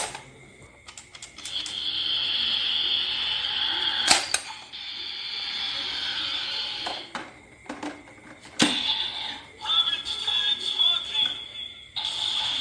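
DX Rabbit Tank Sparkling toy from Kamen Rider Build plays its electronic sound effects with flashing lights: chiming, buzzing tones broken by sharp clicks and bangs, close and moderately loud.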